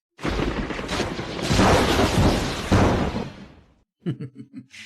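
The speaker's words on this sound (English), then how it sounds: "Let's do something exploding. This is my favorite explosion." A loud explosion sound effect starts with a sudden blast and a long roaring rumble that fades out, followed by a few short, sharp thuds.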